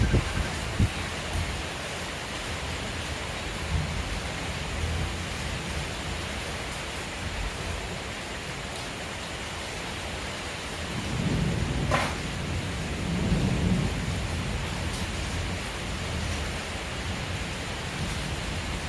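Steady heavy rain hisses throughout at an even level, and a low roll of thunder swells briefly partway through before fading back into the downpour.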